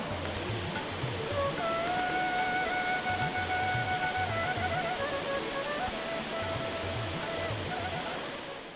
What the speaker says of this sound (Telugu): మనోజ్ఞ జలపాతాలతో, మనోహర సెలయేళ్లతో, నీటి మడుగులతో ఒప్పారే రమణీయ స్థలం కందిరేవుల